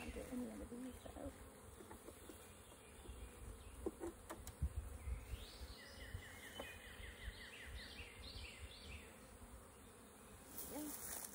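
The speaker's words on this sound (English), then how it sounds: "I don't want to get any of the bees though" Honey bees buzz faintly around an opened hive during an inspection, a soft continuous drone with a few brief high whines and quiet handling noises.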